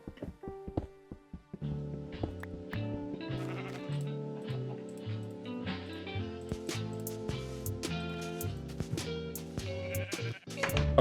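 Sheep bleating repeatedly in Minecraft Beta 1.1_02, clear wavering baa calls heard over a steady background of in-game music tones, with no talking.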